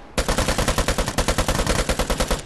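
Rapid, sustained automatic AKM gunfire in the video game Vigor, loud and close, with evenly spaced shots hammering out in one unbroken burst lasting a couple of seconds.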